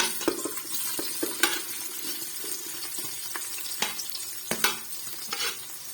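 Chopped onion going into hot oil for an aloo moongray dish, frying with a steady close sizzle broken by sharp scrapes and clinks of a spoon stirring against the pan.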